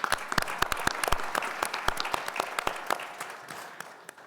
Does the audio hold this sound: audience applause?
yes